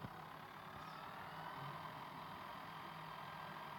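Red tractor engine idling in Farming Simulator 14, a steady low mechanical hum that holds at a constant level throughout, with no talk over it.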